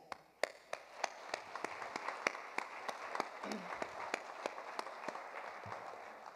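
Scattered audience applause at a college benefit concert in San Diego, a steady patter of claps with sharper individual hand claps standing out over a moderate, somewhat distant crowd wash.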